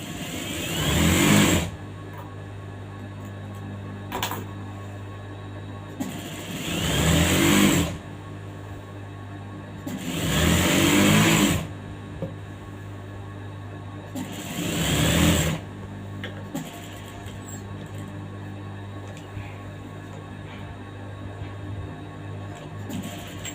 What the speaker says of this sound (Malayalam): ഇനി തിരിച്ചിട്ടിട്ട് ഇതിൽ എഡ്ജിൽ കൂടെ ഇനി ഒരു സ്റ്റിച്ച് കൂടെ ഇടണം